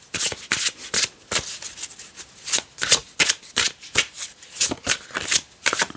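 Tarot cards being shuffled by hand in a run of quick riffling bursts, crisp and close, repeating steadily with no talk over them.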